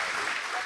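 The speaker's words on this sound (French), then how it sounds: "ils ont donné un applaudissement pour les professeurs et les parents" Brief burst of dense, even crowd applause at a school graduation ceremony, honoring teachers and parents, loud and continuous throughout.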